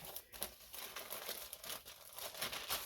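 A copycat chopped cheese sandwich being unwrapped, with quiet rapid crinkling and rustling of the wrapper in uneven bursts throughout, near and without speech.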